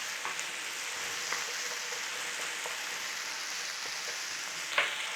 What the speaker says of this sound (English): So we're just going to give that a little stir fry.